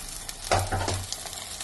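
Chopped tomatoes hitting a hot pan for a shrimp varattiyathu, giving a brief burst of crackling sizzle with a stirring scrape, close up and fairly quiet.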